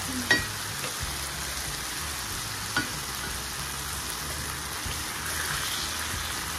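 Sauce for steamed fish simmers in a pot with a soft, steady sizzle. Two brief utensil clinks sound near the start, and no one speaks.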